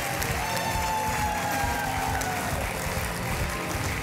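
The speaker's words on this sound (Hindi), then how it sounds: "तालियां।" A studio audience applauds on a Hindi television game show, a dense, steady wash of clapping with some cheering that holds at an even, loud level throughout.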